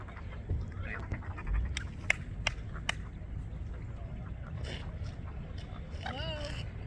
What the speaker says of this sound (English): We've been seeing some unusual ducks here too.